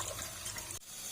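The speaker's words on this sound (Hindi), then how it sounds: "अब टूटी के आगे इस तरह से मैंने वॉश कर लिया।" Tap water runs over spinach being rinsed in a basket under the faucet, a steady broadband splashing hiss that cuts off abruptly near the end.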